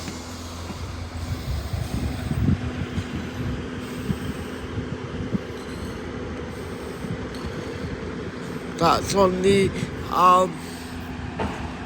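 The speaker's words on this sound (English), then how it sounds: "1746 Great Western Railway service to Gloucester from Bristol Temple Meads." A Great Western Railway class 158 diesel multiple unit passes at Filton Abbey Wood station with a steady rumbling roar and a low engine hum, then a voice talks briefly near the end.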